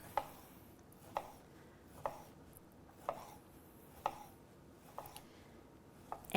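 A knife slices a peeled orange on a cutting board, six evenly spaced firm taps about a second apart, close and fairly quiet with no talk.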